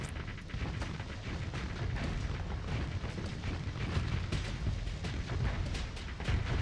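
Heavy blasters fire continuously during a space battle in the game Starsector, producing a dense, loud barrage of overlapping booming shots over a constant low rumble.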